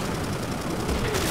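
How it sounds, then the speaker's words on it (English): Shotgun fire in the Front Mission 3 video game, heard as dense, continuous blasting noise across the whole short stretch, with no clear separate shots. "Shotgun"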